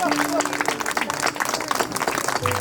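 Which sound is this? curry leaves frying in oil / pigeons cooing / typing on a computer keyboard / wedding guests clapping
wedding guests clapping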